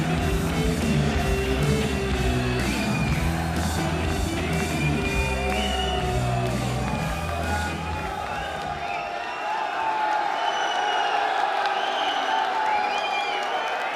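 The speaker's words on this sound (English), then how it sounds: "This crowd making a lot more noise than you might have expected from only 900 spectators." Boxing arena crowd of about 900 spectators cheering and applauding loudly for the first nine seconds, then thinning to scattered clapping and murmur with an announcer-like voice continuing over it.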